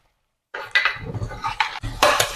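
A spoon scrapes and clanks against a metal pan while stirring a cauliflower, carrot and turnip pickle mixture with fried garlic paste, in a run of irregular close scraping and knocking strokes after a moment of silence.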